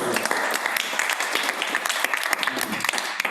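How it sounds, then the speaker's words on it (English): An audience at an entrepreneur lunch-and-learn event gives a short burst of close, steady clapping that carries on without a pause. "give them a round of applause because we are very thankful."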